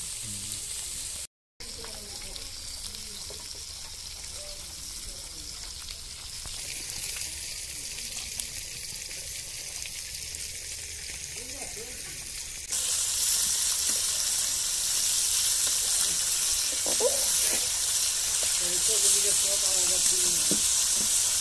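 Fish frying in hot oil in a village kitchen, a steady loud sizzle and hiss throughout that grows noticeably brighter and louder partway through, with brief voices in the background.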